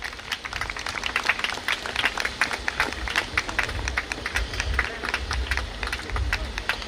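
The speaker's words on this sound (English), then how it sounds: "he needs a big round of applause" A crowd at an outdoor charity walk for hunger in Centennial Park breaks into brisk clapping and cheering, a short burst of applause mixed with background babble and wind rumble.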